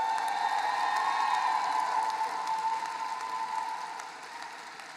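An audience at the STEAM Academy 2023 high school graduation applauds the graduating class, a dense, sustained wash of clapping with a few faint cheers, gradually easing off over five seconds.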